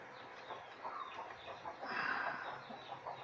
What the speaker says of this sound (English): One of the chickens.